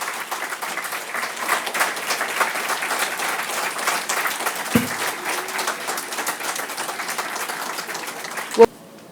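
Sustained applause at a convocation for graduate students named to the Dean's list, a broad, even wash of many hands from a large hall, broken by a short tonal blip midway and a sharp knock near the end.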